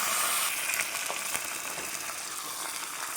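A pot of snake gourd kootu curry with chilli bubbles on the stove, a soft close simmering hiss and gentle bubbling that stays fairly even, with no talk.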